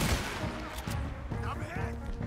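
Gunfire crackles in Red Dead Redemption 2 during a clash with Native Americans, with dense overlapping shots and booms up close. Shouting voices run over the shooting.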